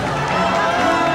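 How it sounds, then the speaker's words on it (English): A large outdoor crowd cheers as President Reagan's motorcade passes during the 1985 inauguration parade at EPCOT Center, a dense, steady roar of massed voices holding at an even loudness throughout, with a voice speaking over it. "You can hear the crowd noise picking up in the background here because the president's motorcade is now"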